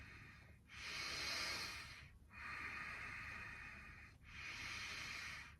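Slow, deep breaths are drawn during a yoga pose with the hips raised and the heart over the head. Three long, airy, hissing breath cycles are heard close and faint, with short pauses between them and no talking.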